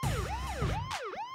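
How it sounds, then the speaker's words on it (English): A wailing siren sweeps up and down in quick, repeated whoops over a thumping low beat, loud and close as part of a music track. "Put sirens in the song."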